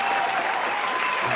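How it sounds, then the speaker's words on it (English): Audience applause after a jazz harp performance in a smooth jazz lounge, a short continuous wash of clapping, fairly loud and close, with no talk. "I'm getting a long applause for this one."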